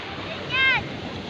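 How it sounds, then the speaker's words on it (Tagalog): Ocean waves at a beach resort in Saysayin, Bagac, Bataan wash in as a steady broad roar, with a brief voice rising over the surf partway through. "ganda ng alon."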